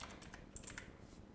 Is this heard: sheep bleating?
no